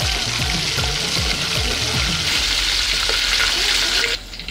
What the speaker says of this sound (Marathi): आता जो आपला कढीपत्ता आहे तो मस्तपैकी तळलेला आहे